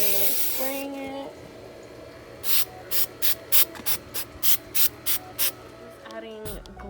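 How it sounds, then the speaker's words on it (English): A spray can hisses in about ten short, evenly spaced bursts as it coats a small artificial Christmas tree on its stand, each spray close and crisp, with a voice speaking briefly before and after. "I have the little Christmas tree on the stand that it came with, and I'm gonna be spraying it."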